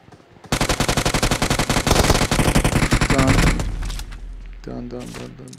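Rapid automatic gunfire in the PUBG Mobile video game, a loud close burst of fast regular shots lasting a few seconds before trailing off, followed by a brief voice.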